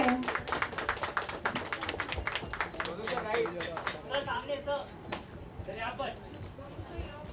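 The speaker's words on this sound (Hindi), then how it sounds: "जोरदार तालियां हो जाए।" Audience applause at a Mumbai-style book success event for Rajiv Rana's novel Sinful, with many close sharp claps in a dense burst that gradually thins, while voices murmur underneath.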